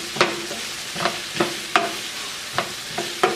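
A spoon stirs chicken cacciatore with garlic, salt and pepper in a pan, giving about eight distinct scraping strokes at a steady rhythm, close and clear over a soft background sizzle, with no talking.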